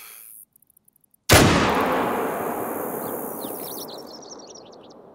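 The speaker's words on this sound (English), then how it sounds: "If that thing settles in, I'm gonna shoot it." A single loud rifle shot fired at a mountain lion in the hunting game theHunter: Call of the Wild, a sharp crack followed by a long rolling echo that fades over several seconds, with faint birdsong before and after.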